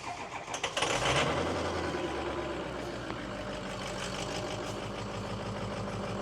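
An old truck with a weak battery and an oil leak cranks briefly, catches, and settles into a steady, rumbling idle close by, the engine note rough and continuous.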